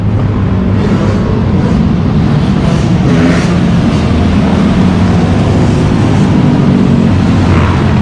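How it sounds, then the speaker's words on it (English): Loud, continuous street traffic rumble in the South Bronx, New York City, with motorcycle engines droning and revving close by, vehicles passing in a dense low roar. "Look at the motorcycles over there."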